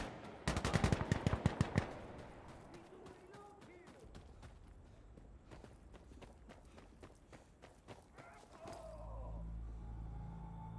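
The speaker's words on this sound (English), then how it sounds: "Shots fired, shots fired!" Gunfire in an Insurgency: Sandstorm modern combat PvP match: a fast burst of loud, close shots early on, then scattered sharper shots and footstep-like clatter amid game ambience, with a low rumble near the end.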